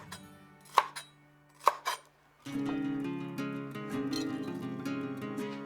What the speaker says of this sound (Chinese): 再来切少许洋葱，也可以用些不同颜色的洋葱，切成和彩椒同样大小的三角形